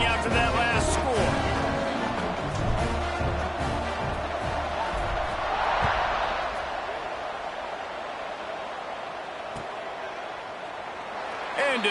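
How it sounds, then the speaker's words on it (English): A stadium crowd buzzes in a college football video game, a broad steady roar that slowly fades, with a commentator talking over it. "this crowd is buzzing after that last score"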